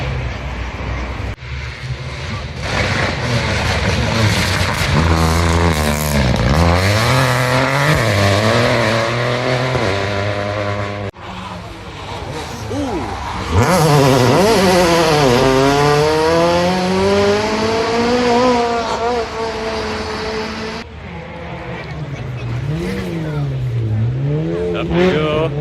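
Rally car engine revs loudly at close range and keeps running in steady, rising and falling bursts for the whole stretch, with a brief dip near the middle, at a tarmac rally event.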